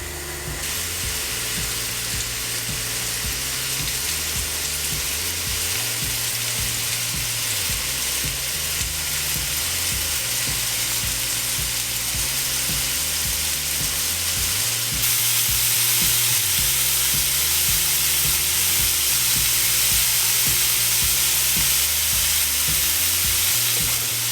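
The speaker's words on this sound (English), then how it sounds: "Cook off those lovely bits, lovely pieces of monkfish." Pieces of monkfish frying in a hot pan, a steady close sizzle that runs unbroken throughout and grows slightly brighter near the end, with no talking.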